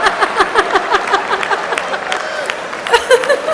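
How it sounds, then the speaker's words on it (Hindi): Audience at a Hindi comedy poetry show claps in scattered, uneven bursts, fairly close, with a short stronger flurry near the end. "ताली कम बजा रहे हो"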